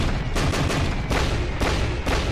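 Cannon fire in an Attack on Titan anime scene comes as a rapid series of loud, heavy booms, roughly four or five blasts in quick succession that fill the whole stretch with rumbling noise.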